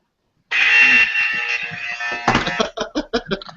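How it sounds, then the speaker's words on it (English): On a wrestling talk show, a game show buzzer sounds for a correct answer: one loud, harsh, sustained electronic buzz lasting about two seconds, then several short choppy bursts. "on the Horseman Hangout, buzzer means you are absolutely correct"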